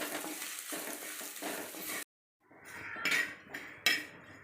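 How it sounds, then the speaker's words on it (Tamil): Curry leaves dry-roasting in a pan with tamarind and garlic, giving soft rustling and scraping stirs with light metallic clinks, broken by a short silence before more scraping resumes. "புளியும் பூண்டு போட்டு நல்லா இப்படி வறுத்துக்கலாங்க."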